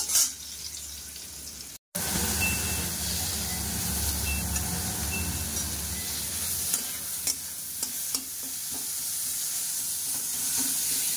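Carrots and soybean chunks fry in ghee in a pan, giving a steady close sizzle and hiss with occasional scraping clicks of stirring, after a brief cut near the start.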